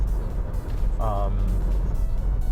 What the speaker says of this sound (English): you can hear the engine a little bit more